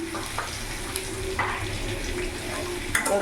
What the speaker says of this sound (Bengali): ভালো করে মশলাগুলো সব কিছু দিয়ে নাড়াচাড়া করে নিয়েছি